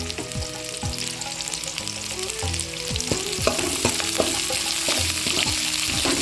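Onions frying in hot oil with chili and curry leaves for a bottle gourd and cowpea curry, a steady close sizzle with repeated scraping stirs throughout, no voices.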